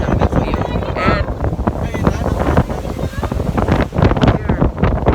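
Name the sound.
wind and rain heard while riding a boat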